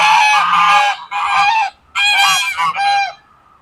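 Geese on a spring homestead honk loudly and close by in several overlapping bursts, with brief pauses between calls and no talking.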